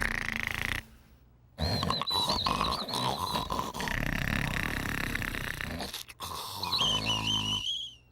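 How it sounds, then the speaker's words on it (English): Cartoonish snoring from cartoon dragon and alligator characters, with rough, grunting inhales alternating with high, wavering whistles, loud and close, repeating in a slow rhythm with a brief quiet gap. "there was snoring and whistling."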